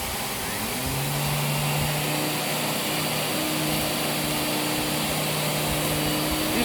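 Miele S7 Bolero vacuum cleaner running at full power, a loud, steady, close whooshing roar with a sustained motor whine that holds evenly throughout, with no talking.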